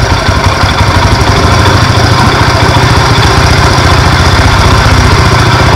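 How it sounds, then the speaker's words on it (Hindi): A 70cc motorcycle engine runs close and loud as its air-fuel mixture is adjusted, a steady buzzing drone with rapid regular pulses that holds throughout with no voices. "जैसे ही मैं पेट्रोल वाला मिक्सचर खोल रहा हूँ, ये देखें आरपीएम बढ़ रहे हैं"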